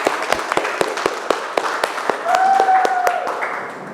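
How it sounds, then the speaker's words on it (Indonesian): Classroom group clapping in a single rhythmic burst of separate sharp claps, followed by a brief whistle-like tone and a short spell of denser clapping, close and fairly loud. "Aplaus kita semua."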